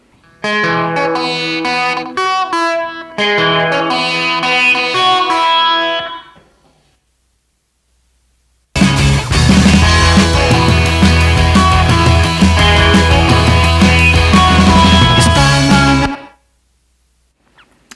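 Two bursts of crunchy, distorted electric guitar riffing with a short echo trailing each note, the second section louder and denser, separated by a brief silence.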